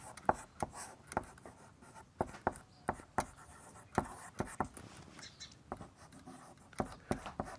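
Chalk or marker strokes on a board during a maths lesson on similar triangles, a steady series of short, sharp taps and scratches close by, with a teacher's voice speaking faintly between the strokes.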